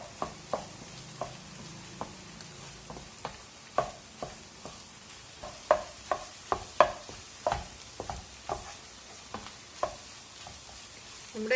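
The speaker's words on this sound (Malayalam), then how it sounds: "ഞാൻ ഇതിൽ തന്നെ സ്ക്രാമ്പിൾ ചെയ്തെടുക്കുന്നത്" Egg scrambled in oil in a frying pan: a soft sizzle runs beneath a steady series of sharp spatula taps and scrapes against the pan, close and fairly regular.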